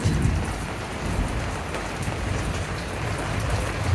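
Steady rain falls, a dense constant hiss with pattering close by, unbroken for the full few seconds with no voices.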